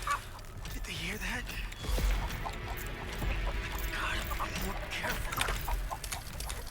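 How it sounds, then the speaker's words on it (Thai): A chicken clucks repeatedly in The Texas Chainsaw Massacre video game, a busy mix of fowl calls heard over game ambience, while someone talks over it. "ตรงนี้มันมีไก่คุณผู้ชม แล้วมันจะร้องอย่างไม่หยุด"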